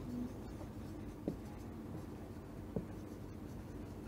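Pen scratching on paper while a physics formula is written, soft continuous writing noise with two brief taps, faint and close, with no speech over it.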